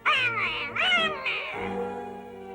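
A cartoon cat gives several drawn-out, wavering meows in quick succession, loud and close, ending in a longer low yowl with no talk over it.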